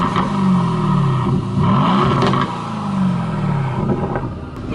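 A supercar's exhaust rumbles and revs in a few rising and falling pulls, loud and close, ending with a burbling, gurgling note as the throttle lifts.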